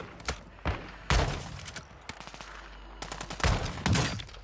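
Shotgun blasts in a video game come as several sharp, loud booms spaced irregularly, with lighter thuds and clatter between them.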